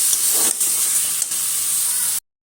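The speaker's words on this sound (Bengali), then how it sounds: "মাংসের মধ্যে মশলাগুলো যাতে মেখে যায় সেভাবে নাড়তে হবে সুন্দর করে" Chicken pieces coated in spices sizzle in a pan while being stirred, a loud, constant hiss broken by a couple of brief scraping strokes before it cuts off abruptly.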